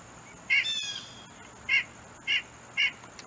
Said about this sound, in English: here's the single call. This is what I usually hear in my backyard.